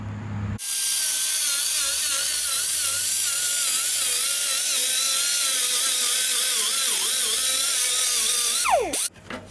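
An angle grinder with a disc finishes the fender of a VW Kombi in a rural workshop, a loud, steady high-pitched whine that runs unbroken for about eight seconds, then winds down and stops.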